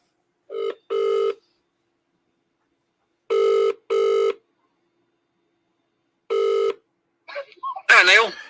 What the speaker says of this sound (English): Let's see if he answered the phone.